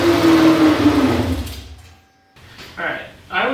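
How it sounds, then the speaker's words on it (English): An LS V8 engine with reversed intake flow cranks over on the starter without firing, giving a churning, whirring run of about a second and a half that dies away. Voices follow. "I'm going to crank it first without so we can listen for that noise."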